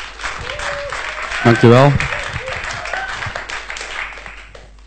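A live audience claps for a performer at a small music show, moderately loud and fairly brief, with a short spoken thanks and some musical tones over the clapping.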